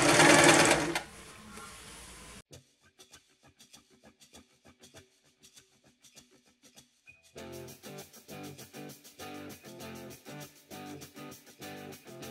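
A sewing machine stitches the turned fabric handle of a small eco tote bag in quick bursts, near and clear, with short pauses between the runs.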